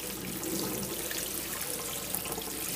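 Water sprays at an angle against the side of a Plano field box tipped on its side, a steady close hiss and splatter with no voices.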